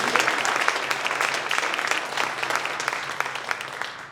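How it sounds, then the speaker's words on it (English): Sustained applause from a seated audience at a cum laude induction ceremony, steady dense clapping that fades slightly toward the end, with no talking over it. "let's give a round of applause to all of our 2024 inductees"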